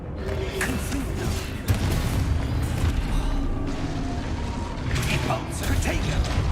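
Explosive Confringo fire spell cast in the Hogwarts Legacy video game, a dense rumbling burst with a sharp crack partway through, layered over continuous clattering combat effects and background game noise.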